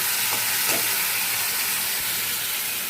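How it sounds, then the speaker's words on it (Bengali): Ground spice paste hits a hot pan of fried onion and potato, letting out a loud, dense, continuous hissing sizzle that stays even throughout. "এই মশলাটা ঢেলে দেবো।"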